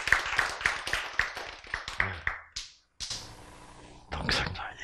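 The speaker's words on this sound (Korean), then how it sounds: "자, 박수." A congregation at a sermon claps in quick, rhythmic bursts for a couple of seconds. The clapping then stops and a voice speaks over a quiet room.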